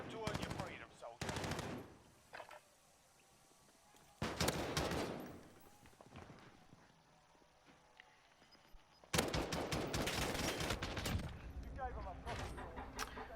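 Odin rifle fire in a video game, several loud sustained automatic bursts separated by quieter stretches, with a voice talking faintly in the background between them.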